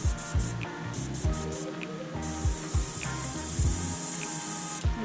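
A thin, continuous hiss of an airbrush spraying paint onto topwater fishing lures at lowered air pressure, close up, over a steady rhythmic background beat.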